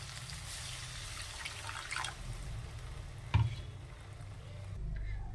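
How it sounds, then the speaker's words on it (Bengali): Water poured into a pan of simmering tomato and egg curry, a steady low splashing pour with a small bump partway through, quiet and continuous over a kitchen background. "ভালোভাবে কষানো হয়ে গেছে এবার জল দিয়ে দেবো"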